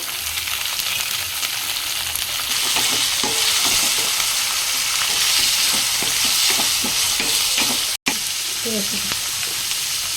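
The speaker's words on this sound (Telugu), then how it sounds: "ఇప్పుడైతే ఉల్లిపాయలు వేస్తున్నాము" Onions sizzle and crackle steadily in hot oil with curry leaves, with occasional stirring clinks and a brief dropout near the end.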